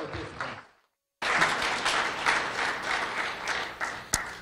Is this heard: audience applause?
yes